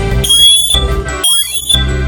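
A loud electronic smoke alarm from a Siterwell smoke and carbon monoxide alarm sounds in a repeating cycle of sweeping and shrill tones, twice in quick succession.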